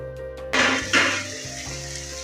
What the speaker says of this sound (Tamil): இப்போது எறாவை போட போகிறேன்.